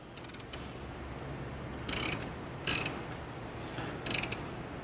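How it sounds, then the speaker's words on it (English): Wrench ratcheting down a spring pressure tester on a 4.9 screw-blown Hemi engine, several short bursts of quick metallic clicking separated by pauses, close and alone. "we'll get a wrench, we'll screw it down"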